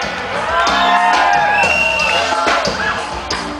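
A crowd at a street carnival bloco shouts and cheers loudly and continuously, with whoops rising over the din and voices mixed in.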